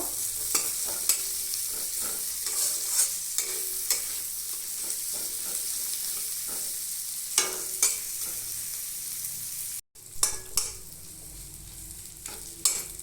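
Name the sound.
chopped onions frying in oil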